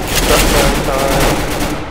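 Shotgun and other gunfire in a Counter-Strike GO Arms Race match, a dense, continuous barrage of shots and impacts filling the whole moment, loud and close, with faint game voices mixed in.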